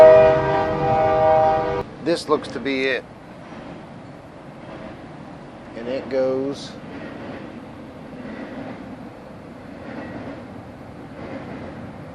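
A train horn sounds at the start, followed by the low rumble of a train passing outside a workshop where a Honda CB900 carburetor is being worked on; someone talks over the fading rumble.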